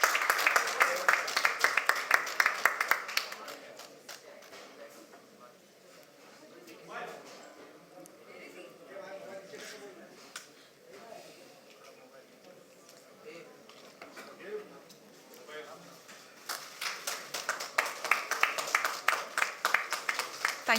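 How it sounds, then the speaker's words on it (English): Audience at the 68th Filmfare Awards clapping for actor Salman Khan, with dense bursts of applause at the start and end and a quieter middle where speech and scattered noise fill in. "A huge round of applause for Mr. Khan."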